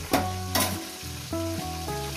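Rohu fish heads crackle in hot oil in a pan, two sharp spitting bursts early, then a steadier sizzle beneath a melodic tune.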